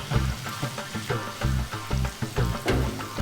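Onion frying in a pan, a steady close sizzle broken by rhythmic stirring pulses that scrape and clatter about every half second, with no voices.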